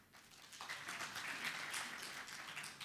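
An audience claps as a show-of-hands vote for the first project at a Google Apps and Marketplace talk, a steady, moderately loud burst of many hands sustained for a few seconds with no talking.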